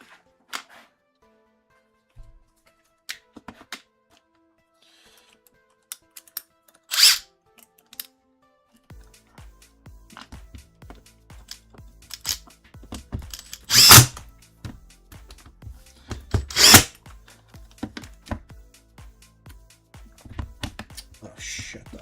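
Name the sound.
impact driver screwing in small screws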